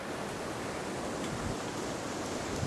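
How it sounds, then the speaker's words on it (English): Water rushes steadily over stones in a rocky creek, a dense, even wash of noise with no pauses or voices. "This has a creek running down this way. And it's a good rocky creek."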